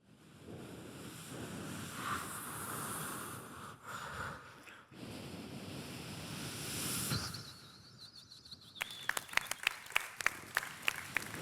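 Comedy show performers on stage vocally imitating the seaside, with breathy rushing and hissing mimicking waves and wind for several seconds, then audience applause breaking out as rapid sharp claps toward the end.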